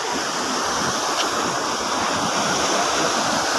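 Water rushes out of Saiful Muluk lake near Naran in a continuous close roar of flowing water, steady and broadband, with no voices.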